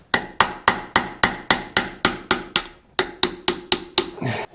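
A hammer drives a chisel into large flat-head fasteners during a Caterpillar D4 Hyster winch rebuild, with about fifteen sharp metallic strikes in a steady rhythm, a brief pause near the end, then a few more blows.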